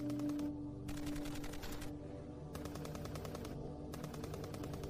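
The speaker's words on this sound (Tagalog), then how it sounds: "Kaagad naman itong pinaputukan ni Hector." Four bursts of rapid automatic gunfire, each about a second long, separated by brief quiet gaps.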